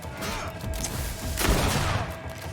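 Gunfire from the video game GreedFall, a burst of shots with a booming hit around the middle over a low rumbling game backdrop, fairly loud and without speech.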